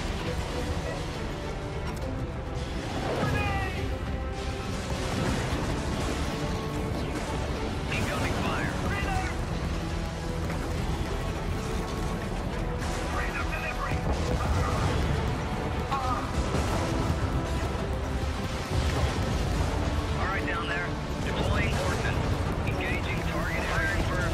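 Ordnance strikes and artillery fire in the video game Helldivers, in a fight against the Illuminates: continuous dense booms and blasts throughout, loud and close, with game voice lines and chatter mixed in.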